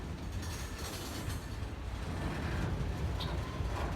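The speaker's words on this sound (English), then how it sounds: "This train is moving slow." A slow-moving freight or passenger train rumbles steadily past a rail crossing on Lake Avenue in Blasdell, New York, a continuous low roar of wheels and cars held at a constant level, with no talking.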